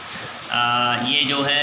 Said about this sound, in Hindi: तो बारिश हो रही है बहुत ज़्यादा बाहर, इसीलिए आवाज़ आ रही है।